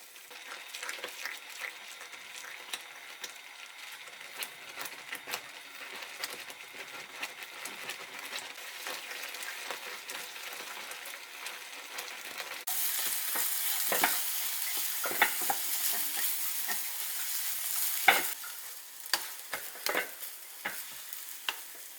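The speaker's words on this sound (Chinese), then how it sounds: "按个人口味加入麦芽糖和红糖， 继续炒至水分收干" Food is stir-fried in a pan with maltose and brown sugar as the moisture cooks off, giving a soft sizzle with frequent scraping and tapping of a spatula, growing brighter and louder partway through.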